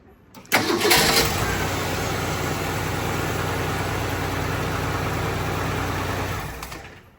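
A 1965 Ford Falcon with a newly replaced starter cranks briefly and catches, then settles into a steady, loud, close idle for several seconds before cutting off.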